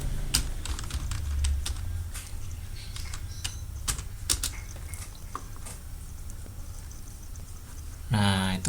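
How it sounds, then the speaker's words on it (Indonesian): Someone types a search on a computer keyboard, a run of sharp, irregular key clicks with short pauses, close and fairly clear, while a voice speaks at times underneath. "diketik aja kisah Nabi Muhammad, nanti akan keluar ya"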